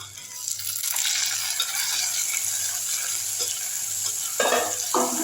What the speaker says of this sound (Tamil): நல்லா வதக்கி விட்ருங்க